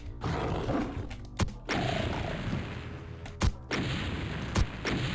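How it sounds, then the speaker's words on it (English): BFG mortar shots from a Doom mod, three sharp booming blasts at uneven intervals over a steady roaring background of game noise. "And the BFG is a mortar, I think."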